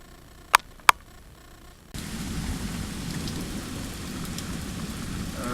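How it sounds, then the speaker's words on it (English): Steady rain pours outside during a thunderstorm, a dense hiss of drops that starts abruptly after two sharp clicks and continues evenly at moderate level. "outside there's a great deal of wind and rain, and this is not the worst of it"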